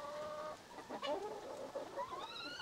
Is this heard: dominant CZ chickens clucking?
yes